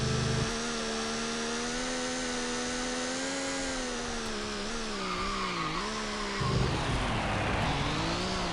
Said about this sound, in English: Wheel spin in second gear as well.